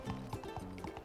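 Horse hooves clip-clopping in the SpongeBob SquarePants: The Cosmic Shake video game, a brief run of soft, evenly spaced thuds heard faintly and up close, with no talking over it.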